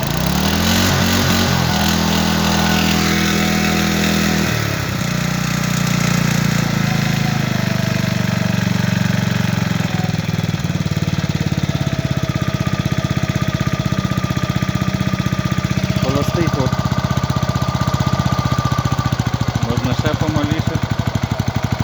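A homemade inverter petrol generator engine runs at low throttle, a loud continuous close mechanical drone with a rough throbbing pulse and some pitch shifts early on, and someone speaks over it.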